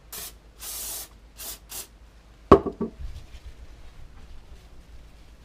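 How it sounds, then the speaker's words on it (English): Contact cleaner sprays onto Honda CB350 starter motor parts in several short, sharp hissing bursts, followed by a loud knock and quieter scrubbing with a Scotch-Brite pad and brush. "I have some contact cleaner, so I'm going to go ahead and clean all this stuff up with maybe a Scotch Brite pad and maybe one of my brushes"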